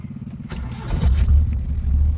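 An old car's engine cranks and catches, a low rumbling idle building and holding steady close by, with no talk over it.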